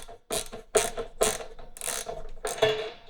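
A guitar's floating bridge being tightened with a ratcheting tool, giving about five short bursts of crisp ratchet clicks in a steady rhythm, close and fairly loud with no talk.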